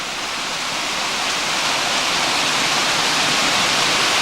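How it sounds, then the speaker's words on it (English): A small Scottish mountain burn near Loch Voil rushes and splashes steadily, a bright continuous watery hiss heard close by with no voices. "This is a little burn coming off the mountainside."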